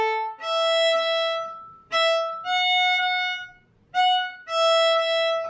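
Violin playing the eighth-note variation of Twinkle Twinkle Little Star from Suzuki Book 1: clear, close bowed notes in short groups, each phrase separated by a brief rest, with no talking.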